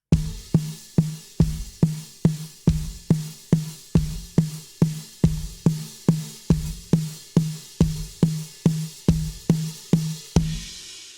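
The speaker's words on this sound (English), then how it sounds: "you take your right hand to the hi-hat and you play the hi-hat opened" A steady run of drum hits in 6/8 time, a hissing open hi-hat washing over each beat and a low thump underneath, repeating evenly for about eleven seconds as a worship drum build.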